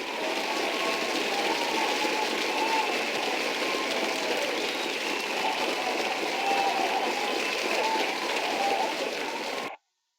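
A huge crowd roars steadily in a dense, continuous wash of cheering and chanting for the full stretch, then cuts off abruptly at the end.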